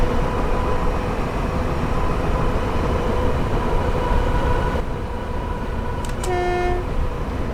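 Gatwick Express electric train in Train Simulator 2017 running steadily along the track, a continuous rumbling drone with tonal hum, followed near the end by a few short horn toots.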